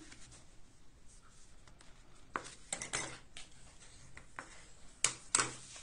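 Black card paper folded in half by hand: faint soft rustling and rubbing, with several crisp scraping creases as the fold is pressed flat, close and quiet.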